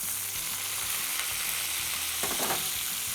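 Beef tenderloin sizzles steadily in a hot pan as it is basted with butter, a bright continuous frying hiss close up, with brief louder spatters as the fat is spooned over.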